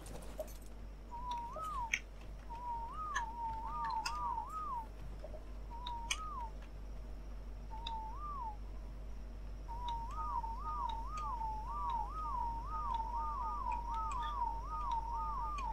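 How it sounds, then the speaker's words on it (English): Repeated short melodic whistles from Ark Survival Evolved sound in sparse bursts, then a faster string of wavering two-note whistles toward the end, faint over a low steady hum and scattered clicks. "you're just gonna have to keep whistling."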